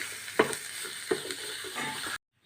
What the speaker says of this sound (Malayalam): കുറച്ച് ഇഞ്ചി വെളുത്തുള്ളി ചതച്ചത് ചേർത്ത് കൊടുക്കാം. ഇതൊന്ന് നല്ലപോലെ ഒന്ന് മൂക്കണം.